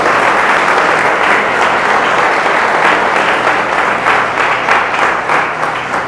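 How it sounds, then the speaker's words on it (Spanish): A church congregation bursts into loud, sustained applause during a service, many hands clapping in a dense, steady roar that swells slightly and carries on throughout. "Démosle ese aplauso a Cristo."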